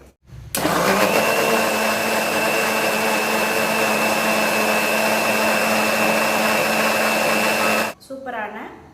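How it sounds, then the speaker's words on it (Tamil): An electric blender grinds an Oreo milkshake with ice cubes in one loud, continuous whirring run of about seven seconds, starting and stopping abruptly, followed by a short rattle after it cuts off. "நல்லா அரைச்சிட்டு காமிக்கிறேன்."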